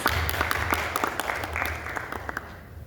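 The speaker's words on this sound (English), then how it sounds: "Please, if you could welcome our panelists with applause" Audience at a Cairo Film Festival panel applauds to welcome the panelists, a dense wash of clapping with some sharp individual claps standing out, gradually thinning toward the end.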